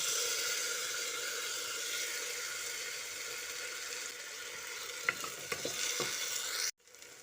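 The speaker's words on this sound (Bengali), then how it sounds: "এবার মশলাটা আলুর সঙ্গে কষিয়ে নিচ্ছি" Spice paste being stir-fried with fried potatoes in a pan for a vegetarian cabbage dish: a continuous soft sizzle with a few scraping stirs near the end, then an abrupt cut.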